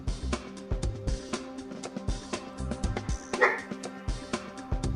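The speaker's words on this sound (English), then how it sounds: "Stop barking. Dog going." A dog barks and yips repeatedly in short bursts, fairly close but not loud, against a quiet indoor background with no talk.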